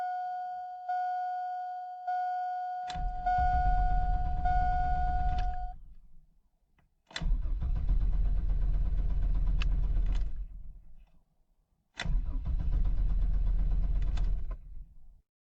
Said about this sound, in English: I'm going to start the truck and we'll see what happens.